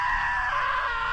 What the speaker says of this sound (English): Now that was a great scream.